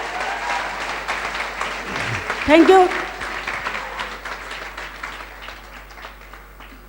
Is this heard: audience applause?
yes